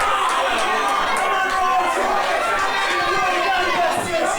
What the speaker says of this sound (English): As you hear the crowd